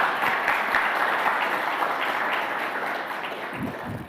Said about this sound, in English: please give a big round of applause for the volunteers